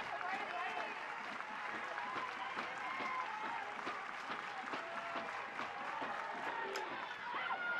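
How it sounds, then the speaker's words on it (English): At an Oklahoma vs. Clemson NCAA softball super regional game, a large crowd applauds and cheers continuously, a distant, steady wash of clapping with a few brief calls rising from it. "See if the crowd gets a little louder here,"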